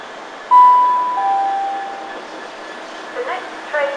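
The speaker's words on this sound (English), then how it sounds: "There's a freight train in platform 5, which is very rare." A freight train stands at a platform of Lincoln Central station, with steady low rail rumble, a couple of long squealing tones and faint clanks. Station ambience and talk sit around it.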